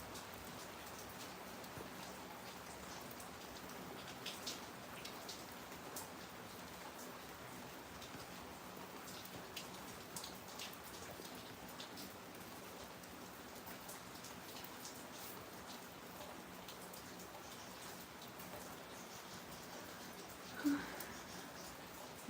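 Rain from Hurricane Hilary falls steadily on and around a tiny house, a constant, even patter of drops that runs on quietly without pause.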